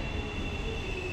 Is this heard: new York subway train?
yes